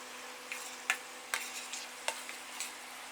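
Sweet potato mash being stirred in a pan on a low stove flame, a few soft, sparse scrapes and taps of the spoon against the pan over a quiet background hum.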